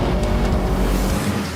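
BMW X5M driving in sports mode on the Nordschleife, a dense, loud rumble of engine and road noise heard up close for a brief moment, steady and without talk.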